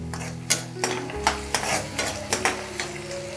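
Tomato pieces and ginger paste frying in oil beside chicken, a steady close sizzle punctuated by regular spoon scrapes and taps against the pan.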